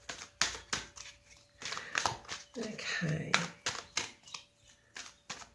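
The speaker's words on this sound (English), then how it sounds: "here I am shuffling these cards" A deck of Spirit Oracle cards is shuffled close up in a series of crisp riffling bursts and papery slaps, with a short crinkly stretch in the middle and a voice speaking briefly.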